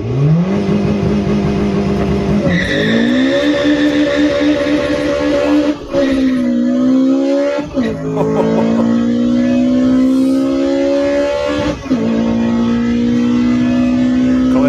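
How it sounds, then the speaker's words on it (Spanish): A Honda Integra Type R engine revs hard through successive gears on a top speed run, rising pitch climbing steadily with brief dips at each upshift, loud and continuous with wind roar throughout. "Vamos a ver la velocidad máxima del Honda Integra Type R."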